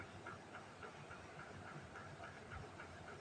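Bata fish from the Meghna river fry in hot oil in a pan, giving a faint, steady sizzling hiss with soft rhythmic crackles, heard alone without talk.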